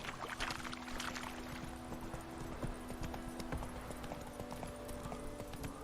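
Horse hooves clip-clop steadily at a walking pace in The Witcher 3 video game, a close, regular rhythm of soft thuds over faint ambient game sound with no talk.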